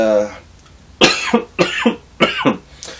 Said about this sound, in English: Oh yeah, I gotta stop coughing.